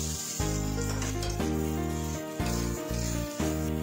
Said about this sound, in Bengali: পটলগুলো ভালো করে মিশিয়ে নিয়ে কিছুক্ষণ ভেজে নিতে হবে